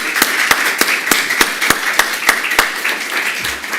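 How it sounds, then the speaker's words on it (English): A conference audience applauds the first panel at a COP27 climate mitigation session, giving fairly sparse claps with distinct, evenly spaced sharp hits over a soft background of hands. "please join me in giving the first panel a round of applause"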